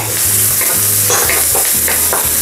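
Garlic hitting hot oil in a frying pan over onions, giving a loud, steady sizzle with faint stirring clinks, no voices.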